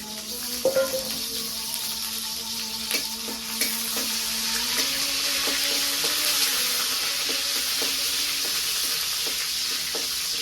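Onion dropped into hot oil for a potato fry in a village kitchen, crackling into a steady close sizzle with repeated spoon taps and stirring clicks against the pan, no speech.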